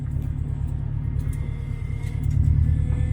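Built Subaru GC8 RSTI on 285-wide tires driving along, a deep steady engine and road rumble inside the cabin that swells louder near the end.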